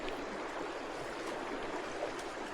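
A river near Redfish Lake flowing in a constant soft rush of water, faint and steady throughout with no voices.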